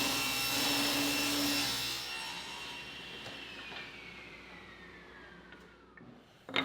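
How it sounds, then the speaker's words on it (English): Table saw ripping 5/4 wood stock into half-inch stop molding for a shed window frame: a loud whining cut that gradually fades as the blade spins down, ending with a brief knock. "I'll start by ripping 5/4 material at 1/2 inch"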